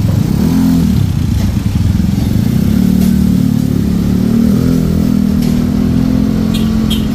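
A Mio 160cc motorcycle fitted with a Kalkal replica exhaust pipe revs steadily, loud and close, with a continuous low droning engine note and no talk.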